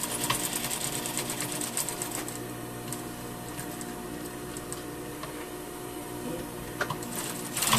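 A sewing machine stitches a tailored sleeve seam toward a marked point short of the end, running steadily and close throughout with a rapid mechanical patter and a slight surge at the finish.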